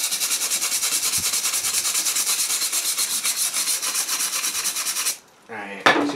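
Steady wire brushing scrubs rust from a steel spanner after a citric acid soak, a fast even rasping rub held for about five seconds. The strokes then stop briefly before a short final scrape.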